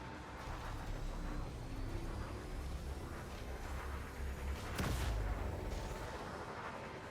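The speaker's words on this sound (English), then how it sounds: "He's firing railguns at me" Railguns firing in a space video game, a steady dense roar of booming fire with one sharper crack standing out partway through, moderately loud throughout.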